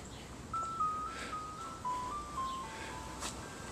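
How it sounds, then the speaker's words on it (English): An ice cream truck plays a Mozart melody as a simple chiming tune of clean, sustained notes, heard faintly from a distance over quiet outdoor background noise, with occasional soft knocks. "I think that's Mozart on an ice cream truck."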